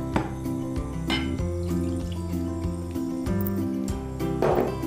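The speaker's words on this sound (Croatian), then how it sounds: "Prije svega u posudu na indukciji ulijemo juhu." Broth pours into a pot on an induction cooker in a home kitchen, making a continuous liquid splashing that runs under steady background music.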